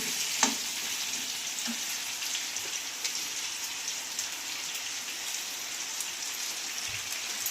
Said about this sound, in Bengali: আমি ভালো করে ফুলকপিটা আমি ভেজে নিয়ে আলুটা ভাজছি